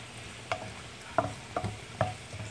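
Onion cooks in a pan in a home kitchen with a soft, low sizzle, broken by four distinct stirring scrapes or knocks spaced about half a second apart, close by and with no voice.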